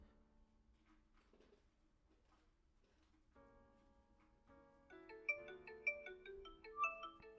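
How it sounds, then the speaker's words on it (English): Incoming video call ringtone on a phone, starting as quiet sparse tones and then swelling into a brighter, louder melodic ring of repeated chiming notes, with no talking. "The other phone is now ringing."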